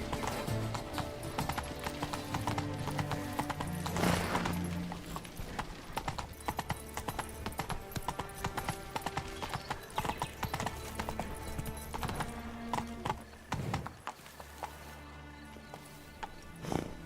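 Roach, Geralt's horse in The Witcher 3: Blood and Wine, trots along with steady, continuous hoofbeats close by, a brief whinny early on and game ambience underneath.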